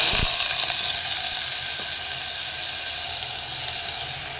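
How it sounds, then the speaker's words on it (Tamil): Onion and green chilli frying in oil with spices give a steady, loud sizzle that fades slightly, with a brief scrape near the start and no talking. "இப்போ இது கூட ஆனியனும் பச்சை மிளகாவும் சேர்த்துருக்கேன்"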